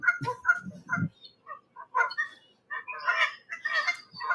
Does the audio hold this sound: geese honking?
yes